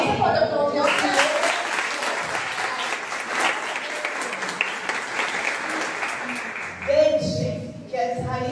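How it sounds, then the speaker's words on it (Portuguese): A church congregation claps together in sustained, dense applause. A voice speaks over the start, and more speech comes in near the end. "Você pode aplaudir ao Senhor."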